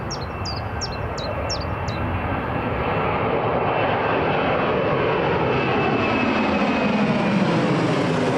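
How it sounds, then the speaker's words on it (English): A Ryanair jet airliner taking off at Newcastle International Airport roars loudly and steadily, its engine noise building as it climbs away, with a few brief bird chirps near the start. "There's a Ryanair going for Fandaway."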